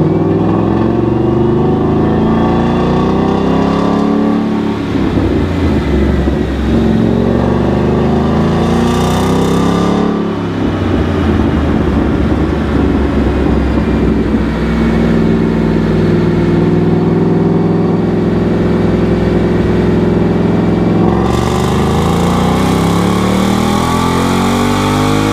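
A loud stock Gen2 Coyote V8 engine with a ported 2018 intake manifold runs continuously on a dyno, revving up and holding high with a steady roar and shifting harmonics, then dropping briefly and climbing again.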